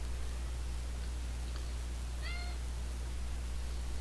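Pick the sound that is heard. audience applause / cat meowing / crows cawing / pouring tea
cat meowing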